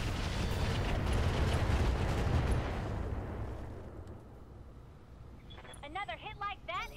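Heavy mech weapons fire in the Roguetech BattleTech game: a loud, sustained roaring barrage of impacts and rumble that fades over a few seconds, followed by brief mechanical chirps and a voice near the end.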